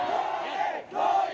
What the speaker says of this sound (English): Large crowds from all walks of life have come together in the main city Yangon and the capital Naypyidaw, shouting military dictator, fail, fail, fail.